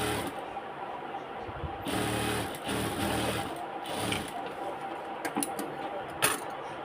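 A sewing machine stitches a pants pocket in bursts of rapid mechanical chatter, starting and stopping several times, fairly close but at a moderate level with no talking.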